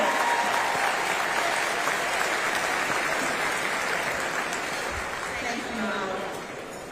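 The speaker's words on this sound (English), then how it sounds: "Come on, give me a big round of applause." Crowd at the Houston State of the City event claps in a broad, steady roar of applause that gradually thins toward the end, with voices mingled underneath.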